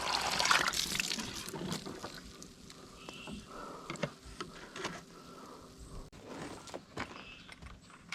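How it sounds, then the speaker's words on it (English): Water runs steadily into a 5-gallon bucket with a hollow, rushing splash, while occasional knocks and footsteps sound nearby. "That's a 5-gallon bucket that I'm filling up"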